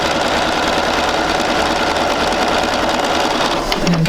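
A sewing machine hums continuously and loudly as it sews a quilt seam for a sampler block, a steady close mechanical drone with no pauses.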